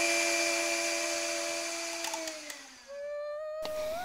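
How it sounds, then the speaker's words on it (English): An electric hand mixer whisks eggs for a sugarless ice cream, its steady motor whine holding a constant pitch, then dropping and shifting speed near the end, with brief clatters against the bowl; no talk. "Use the mixer to whisk the eggs until the mixture is thick and pale colored."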